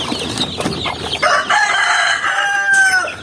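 Native chickens cluck close by on a farm while a rooster lets out a loud, drawn-out crow that fills most of the few seconds.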